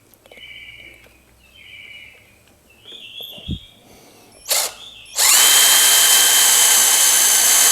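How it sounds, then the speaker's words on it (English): A power drill pre-drills holes in oak for pocket screws; a few quiet taps and birdsong come first, then the drill starts and runs loud and steady at close range until the end. "I'm going to do a little pre-drilling"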